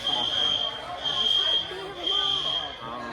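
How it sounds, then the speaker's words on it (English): Fire alarm sounding inside a busy pizza restaurant, a steady high-pitched electronic tone running continuously under people talking and restaurant chatter. "Ladies and gentlemen, there's a fire alarm."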